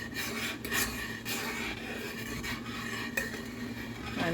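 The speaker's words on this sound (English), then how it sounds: "I'm going to continue stirring until I slow down" A spoon scrapes and stirs cranberry sauce in a stainless steel pot, giving soft rhythmic rasping strokes with occasional metallic taps, quiet and close.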